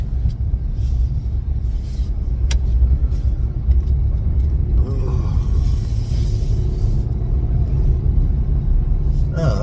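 Car driving along a road, a steady low engine and tyre rumble filling the whole stretch at close range, with faint passing noises and a brief muffled voice.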